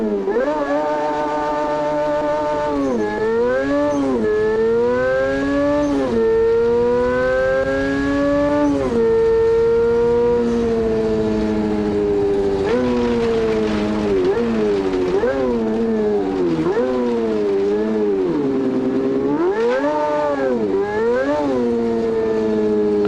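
Engine-sim quad-rotor engine car in BeamNG revving up and down through repeated rising and falling sweeps, loud and continuous, heard alone with no talking.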